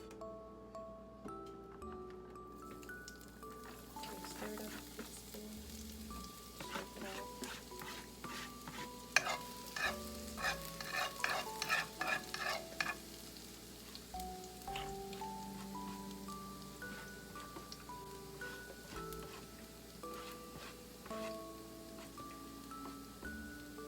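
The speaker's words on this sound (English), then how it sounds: "So we want the garlic to get like a nice golden brown." Garlic and shrimp frying in oil for shrimp linguine, a steady soft sizzle with crackling pops and brief scraping stirs, heard fairly quietly and without talking.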